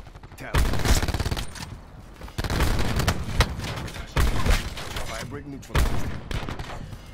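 Black Ops 4 gunfire in a multiplayer video game: loud bursts of automatic fire come in four clusters, dense and rattling, with game effects filling the gaps between them.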